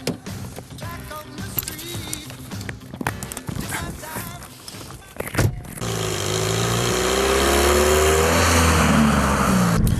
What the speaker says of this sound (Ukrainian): Зараз ми їдемо по дорозі зі Свидівка